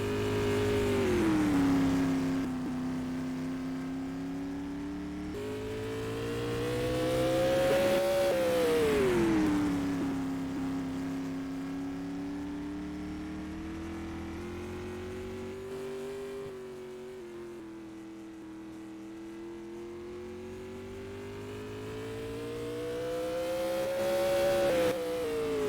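A supermodified race car in a sim racing game at Oswego Speedway, its engine droning steadily and rising and falling in pitch as it laps the oval, loud and continuous.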